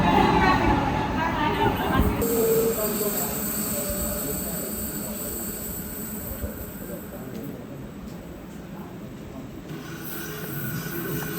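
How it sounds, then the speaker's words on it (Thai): A train rumbles into a Swiss mountain railway station on the line between Lauterbrunnen and Grindelwald, with a rising metallic squeal from its wheels, steady rolling noise filling the scene. "มีขบวนรถไฟนะครับ มุ่งหน้าเข้ามาสู่สถานีสวายณุชเนนะครับ"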